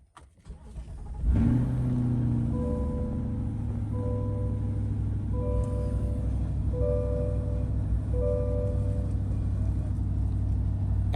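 A Corvette C8 engine cranks and fires up after a battery change, swelling into a loud, steady idle with a faint repeating chime over the rumble, no talking.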